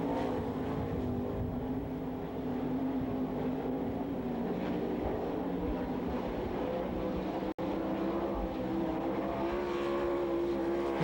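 Sprint cars roar around the Knoxville Raceway dirt oval during the Masters Classic with the All Stars, a continuous distant engine drone heard from the grandstand, with a brief dropout partway through.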